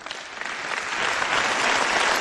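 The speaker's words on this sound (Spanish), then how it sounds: "Fue interrumpido hasta 3 veces por los aplausos." Applause fills a European Parliament chamber, a dense wash of many hands clapping that swells slightly and holds steady for a couple of seconds.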